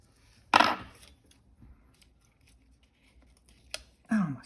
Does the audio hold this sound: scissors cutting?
yes